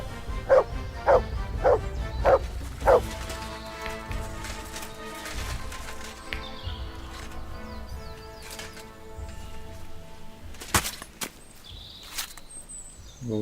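A dog fighting wolves in the video game Kingdom Come: Deliverance 2 lets out five quick, sharp barks in a row, then the scuffle goes on under music and scattered impacts.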